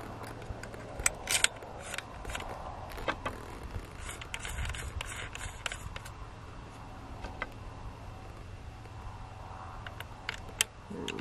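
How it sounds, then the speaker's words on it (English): A Carlson's Creamator shotgun choke tube is unscrewed and swapped, mid-range out and long-range in, with soft metallic clicks, ratcheting ticks and light scraping. The sounds are close and quiet against a faint outdoor background. "We're gonna take out our mid-range choke and exchange it for"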